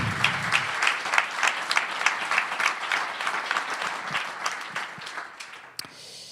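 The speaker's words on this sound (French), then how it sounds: "un tonnerre d'applaudissements pour l'équipe" An audience at a Café Numérique Liège event gives the team a round of applause, close, lively clapping with distinct individual claps, strong at first and thinning toward the end.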